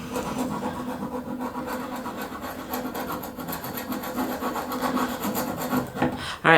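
Close, continuous scraping rasps across the old flaking finish of an antique wooden bed, a steady rhythmic rub with a sharp louder clatter at the end, no talk.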